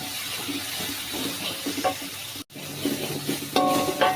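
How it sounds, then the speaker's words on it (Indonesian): Ground spice paste with kaffir lime leaves sautéing in oil for Indonesian paicang, a steady close sizzle and fry with light stirring scrapes, brief pause midway, no talking. "tumis bumbu yang kita haluskan tadi dengan minyak, tambahkan daun jeruknya"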